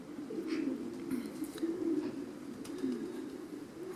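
Low, throaty cooing of several pigeons in a loft rolls on continuously, close and steady, with no voices.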